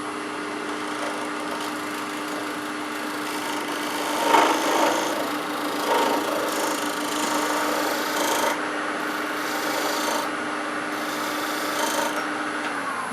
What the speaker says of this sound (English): we're just going to true up this tenon just a hair